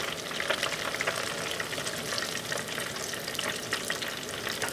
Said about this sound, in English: In this little fryer, I'm keeping it down to 2 at a time.